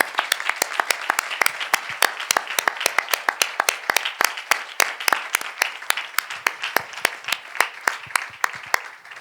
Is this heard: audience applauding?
yes